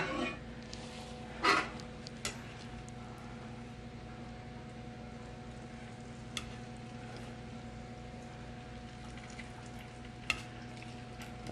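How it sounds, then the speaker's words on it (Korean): Eel pieces fry in olive oil in a hot frying pan, a soft steady sizzle with a few sharp clicks and pops scattered throughout. "장어를 넣어줍니다"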